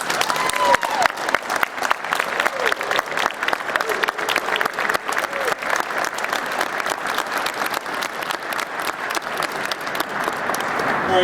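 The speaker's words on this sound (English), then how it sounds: "let's give him a round of applause" An indoor crowd at a Marine master gunnery sergeant's promotion ceremony gives a sustained round of applause, with dense, even clapping that holds for about ten seconds and swells slightly near the end.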